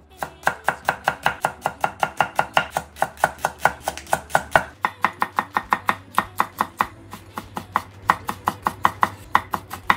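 A knife chops green onion on a cutting board in a steady, rapid rhythm of crisp, close thuds, dozens of strikes over ten seconds with a brief pause midway and no speech.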